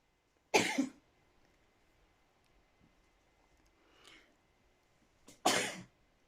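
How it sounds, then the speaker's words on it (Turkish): Two sharp, loud sneezes from a person crocheting a scarf, one near the start and one near the end, with a faint breathy sound between them and otherwise quiet surroundings. "tam şey yaparken hapşırık geldi"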